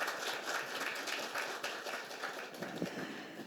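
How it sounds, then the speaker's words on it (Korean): A forum audience applauding the panelists, a faint, distant wash of clapping that holds evenly throughout, heard from far back in the hall, no voices. "토론에 힘써주신 7분께 다시 한번 큰 박수를 부탁드리겠습니다"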